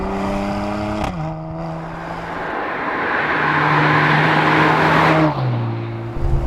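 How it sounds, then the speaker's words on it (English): A Mercedes-AMG C43 4Matic Coupé sports car engine revs hard, pitch climbing through gears with sharp shifts, loud and close, alone without talk. "I do love the sound of this car."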